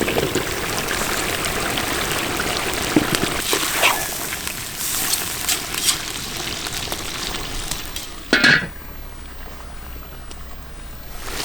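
Potatoes for kuyrdak frying in a hot pan, a loud continuous sizzle and hiss with a few sharp crackles and a brief burst near the end before it quiets.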